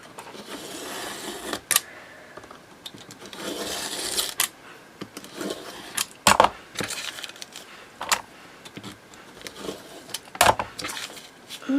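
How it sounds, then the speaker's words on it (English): A craft knife cuts through card along a metal ruler, with sharp clacks and scraping strokes in uneven bursts, close and fairly loud. "I'm just going to cut down the edge with my knife"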